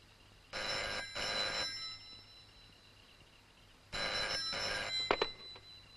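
A telephone rings in two bursts of paired electronic trills, with a quiet gap between them and a brief clatter at the end, as if the handset is being picked up.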